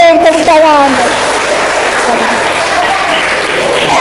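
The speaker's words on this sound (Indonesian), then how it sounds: "Oke, baik, tepuk tangan." A training-session audience applauds with a loud, continuous wash of clapping that starts right after a brief voice and holds steady to the end.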